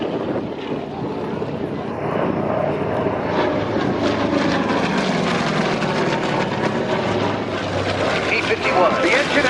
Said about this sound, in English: Thunderbolt overhead.